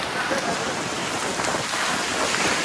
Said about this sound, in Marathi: अरे बेकार पाऊस आहे बेकार